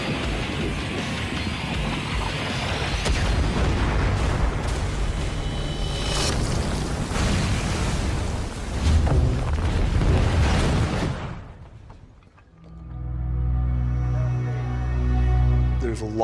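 Booming film explosions and blasts from a Suicide Squad battle scene, loud and dense for about eleven seconds over rumbling effects, then cutting to a quieter stretch with steady tones that sounds like music.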